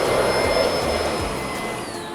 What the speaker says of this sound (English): When you're vacuuming, you always vacuum area rugs first before hard floors.